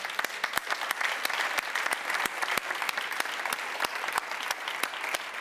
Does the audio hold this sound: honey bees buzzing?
no